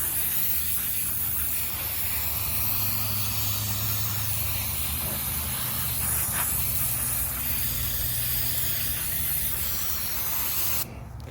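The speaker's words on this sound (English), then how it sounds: "we're just going to hit this with some simple brake parts cleaner" Brake parts cleaner sprayed from an aerosol can onto a BMW R80/7 motorcycle carburetor, a steady continuous hiss lasting about eleven seconds before cutting off abruptly.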